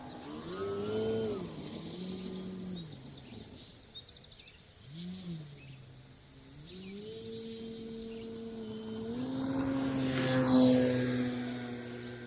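A 3DHS Extra 330 SC RC airplane's electric motor hums and whines through a takeoff roll, its pitch rising and dipping with throttle changes before climbing to a louder, higher whine near the end, with no voices.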